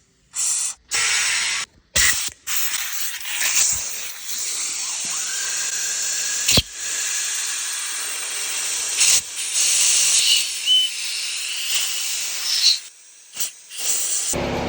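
A compressed-air gun blasts out cleaned stud holes on a 700-horsepower wood chipper, firing a series of loud, sharp hissing bursts, some short and some long and sustained, with brief silences between.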